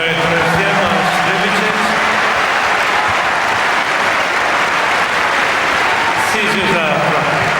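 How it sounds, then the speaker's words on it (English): Croatian fans at a 2005 Paris tennis final break into sustained loud applause and cheering after their player wins a set, a dense wash of clapping filling the arena for several seconds. "fans at last from Croatia have something to cheer"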